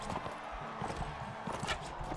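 Horse hooves clip-clop in the Mount & Blade: Warband video game, a busy run of quick, moderately loud hoofbeats amid game ambience, with no speech over them.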